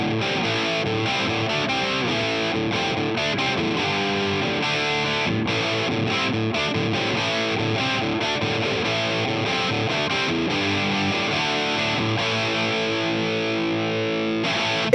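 Electric guitar played through an Xotic BB Preamp pedal, its distorted tone pushed into a gritty rock-blues drive, chords and riffs ringing loud and continuous with no voices.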